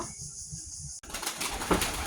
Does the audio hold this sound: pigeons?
yes